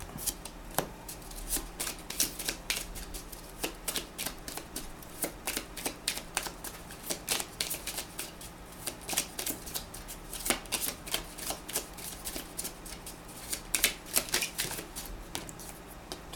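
Oracle cards being shuffled by hand, heard up close as a steady patter of soft riffling flicks lasting throughout, with no talking.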